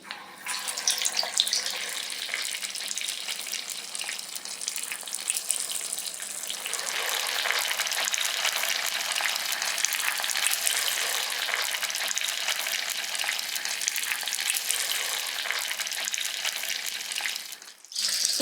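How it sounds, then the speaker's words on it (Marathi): Sabudana medu vadas dropped one by one into hot oil, a broad steady hiss that swells from about seven seconds and holds loud and close until cutting off near the end. "आता सोडूया आपण एक एक मेंदू वडे"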